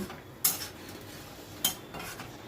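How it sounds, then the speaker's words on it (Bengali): A spoon stirs fried koftas into a chickpea curry in a metal pan, with two sharp clinks against the pan over a low background of soft stirring. "এবার ভেজে রাখা কোপ্তাগুলো আমি দিয়ে দিচ্ছি, দিয়ে আবার সব কিছু ভালো করে মিশিয়ে নিলাম।"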